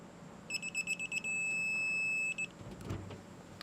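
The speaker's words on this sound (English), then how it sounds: "you're just going to listen for a steady beep noise" A digital torque wrench tightening a 5/8 copper line fitting on an air handler install gives a string of short beeps that become one steady, fairly faint tone once the set torque is reached.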